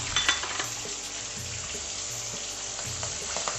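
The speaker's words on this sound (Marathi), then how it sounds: "हिंग टाकल्यानंतर आपण याच्यामध्ये हे दाणे टाकून घेऊ।" Peanuts dropped into a hot oil tempering with asafoetida and fried chili pieces for a raw tomato chutney, a steady close sizzle and crackle of frying with a few light clinks of a pan or spoon, no talking.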